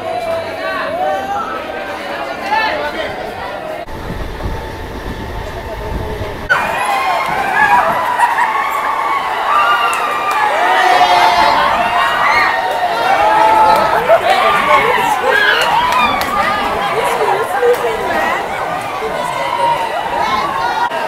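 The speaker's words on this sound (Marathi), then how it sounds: "ट्रेन मध्ये किती गर्दी आहे बघा" Packed Sunday local train bound for Lonavala, dense overlapping chatter and shouting of many passengers throughout, with rumbling movement and a few thuds early on.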